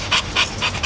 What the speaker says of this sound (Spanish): Pinche perro loco.